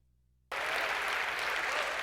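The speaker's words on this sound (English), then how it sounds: "Applause" Audience applause bursts in abruptly after a brief silence, then continues as dense, even clapping from a sizable crowd.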